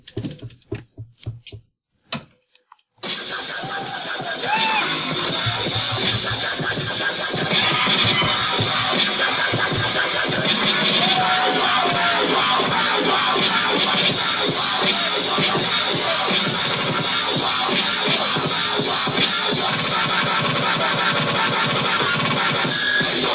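A live MPC beat routine performed during a competition round, beginning after a few seconds of near silence and sparse taps, then running continuously as dense layered drum hits and samples at a steady, loud level.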